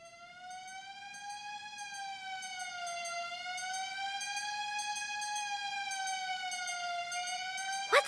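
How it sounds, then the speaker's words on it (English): A fire engine siren wails in a steady rising and falling tone, heard alone and fairly clear for the whole stretch with no talking. "It's a fire engine."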